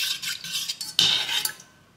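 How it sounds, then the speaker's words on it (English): A spoon stirs nutritional yeast into oat milk warming in a pan over low heat, giving a quiet run of scraping and clinking strokes against the pan. One sharper clink lands midway, and the sound then fades out. "Just going to stir that in."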